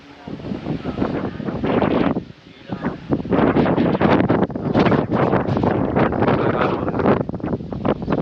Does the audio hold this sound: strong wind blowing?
yes